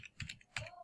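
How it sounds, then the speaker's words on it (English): Password being typed on a computer keyboard: a few quick, light key clicks in a short burst, close and fairly quiet, with no talking. "So I'm typing in a password here."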